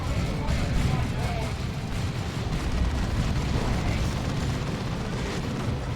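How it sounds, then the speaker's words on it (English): Sustained battlefield gunfire from squads using dispersed shot in a Dawn of War 2 3v3 match, a dense continuous rumble of rapid shots and booms at steady loudness, with a commentator talking over it. "They're still using that dispersed shot."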